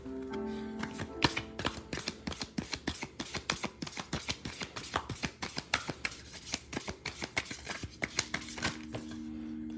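Oracle cards are shuffled by hand in a steady run of soft, crisp riffling taps, close and fairly quiet, continuing for about ten seconds with no talk.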